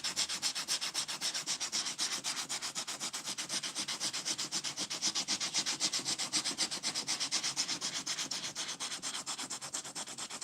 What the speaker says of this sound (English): I think this is, 80 grit sandpaper right now. And it looks kind of, sort of like it's biting.